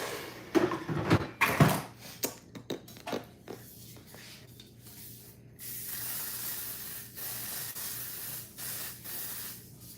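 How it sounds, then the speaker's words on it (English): Several short hissing bursts of an Amika hair humidity spray at first, then a longer continuous spray hiss, close by, with small handling noises between them. "This is Amika's humidity spray"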